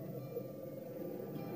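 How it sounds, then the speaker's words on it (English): Humpback whale song picked up by a hydrophone lowered into the sea, a continuous low moaning tone with shifting overtones sustained at steady moderate level throughout, with no talk. "Today, Dr. Jim Darling lowers the hydrophone into the water, just as he did decades ago when Roger Payne first invited him here to record humpback whales."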